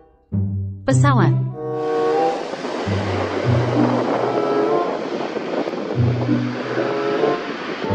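A toy airplane gives off a loud mechanical whirring hum with a brief rising tone early on, steady engine-like drone throughout, with a voice speaking over it in places.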